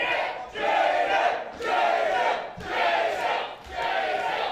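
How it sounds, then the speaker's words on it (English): A wrestling crowd at a deathmatch roars loudly in four rising and falling swells of cheering and shouting that fill the arena without a break. "This crowd is coming alive for Jaden."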